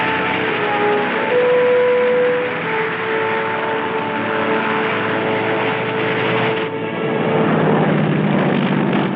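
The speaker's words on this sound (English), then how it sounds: "The first plane landed just 24 hours after the Seabees had started to work." A propeller airplane drones loudly and steadily, its engine tone shifting slightly as it lands on a freshly cleared airstrip at Tarawa in 1944, with no voices.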